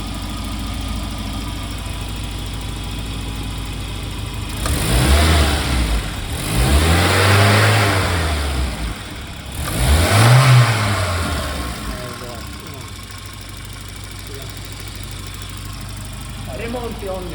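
A Volvo 940 Turbo engine at idle takes three separate throttle blips, each rev swelling and falling back, close and fairly loud, while a few words are spoken.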